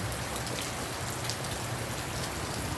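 Heavy rain pours down steadily and loudly with no pause, a dense continuous hiss of drops striking nearby surfaces.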